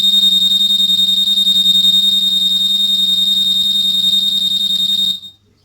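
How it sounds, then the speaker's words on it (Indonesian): A Vario 150 motorcycle's anti-theft alarm buzzer sounds a loud, steady, piercing electronic tone continuously for several seconds, then cuts off abruptly. "Ketika ada goncangan di sini, speaker buzzer akan bunyi"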